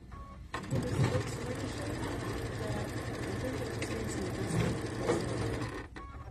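A sewing machine hums steadily while stitching rows of a quilt block, with thread tension set wrong; the motor runs continuously for several seconds, close and moderately loud, with people talking faintly over it.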